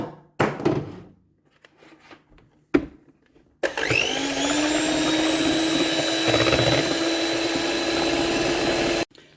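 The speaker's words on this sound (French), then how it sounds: "On va monter les blancs d'œufs en blanc-neige très ferme." An electric mixer whips egg whites into stiff peaks for a Nutella tiramisu, running loud and steady for several seconds after a few knocks and clatters, with a rising whine as the mixture firms up.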